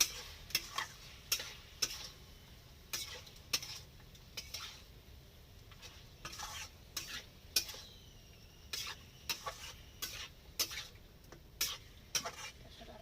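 Pork dry fry with turmeric being stirred in a pan: a spoon clinks and scrapes against the metal in irregular, sharp ticks, close and fairly quiet over a soft sizzling background.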